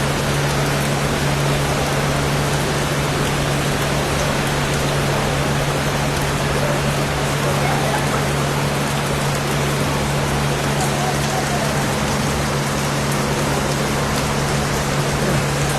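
Heavy rain pours steadily with a dense, continuous hiss that stays loud throughout, with a low steady hum running underneath.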